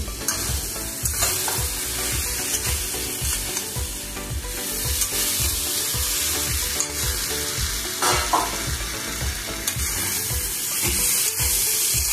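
Pointed gourd (potol) fries in hot oil for a potato and gourd curry, with a loud, continuous sizzle and repeated stirring scrapes close by.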